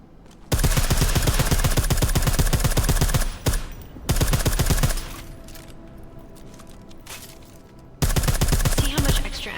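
Suppressed weapon fire in the video game Deus Ex: Mankind Divided, heard as rapid, loud automatic bursts of muffled shots in three stretches, separated by brief pauses and a quieter gap.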